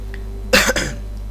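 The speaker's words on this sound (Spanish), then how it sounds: "Perdón por la tos." A single short, loud cough close to the microphone, breaking once into two bursts over a quiet background hum.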